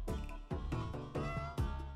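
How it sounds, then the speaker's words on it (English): Cartoonish cat meows from the meow button in the CATO platformer game repeat several times in quick succession, bright and close over faint game audio. "It has a meow button."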